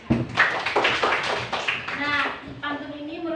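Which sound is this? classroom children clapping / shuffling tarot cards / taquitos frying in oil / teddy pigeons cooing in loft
classroom children clapping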